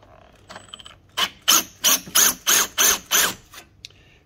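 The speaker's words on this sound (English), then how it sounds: "Simply undo the screw here." A screw being undone on a garage door carriage: a faint tool contact followed by six or seven evenly spaced metallic ratcheting clicks, close and distinct, with no talking.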